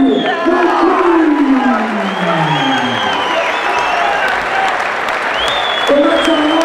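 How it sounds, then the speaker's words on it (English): A fight-night crowd applauds and cheers loudly for the bout winner, with sustained clapping, whoops and shouts while a voice talks over the noise. "So let's have a round of applause for a fantastic winner."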